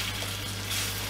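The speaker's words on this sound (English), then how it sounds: "And then you put your balls in your frying pan." Meatballs sizzle and fry in a pan at home, a dense, steady crackling hiss that fills the moment with no voices.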